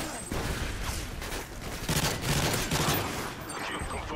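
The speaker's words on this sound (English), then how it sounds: "Got my own freaking teammates shooting at me." Rapid gunfire from teammates in Call of Duty Modern Warfare 3, a continuous dense rattle of automatic weapons filling the scene with faint game noise underneath.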